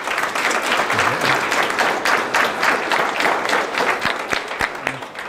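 An audience at a Governor's Scholars Program information session claps in a dense, steady round of applause, continuous and fairly loud throughout, with a few sharper individual claps near the end.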